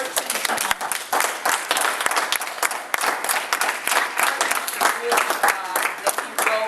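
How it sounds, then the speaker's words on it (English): A crowd claps loudly and continuously, dense applause filling the whole stretch without any speech. "Stand and give him another hand clap."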